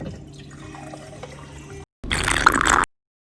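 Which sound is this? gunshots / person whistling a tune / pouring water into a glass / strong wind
pouring water into a glass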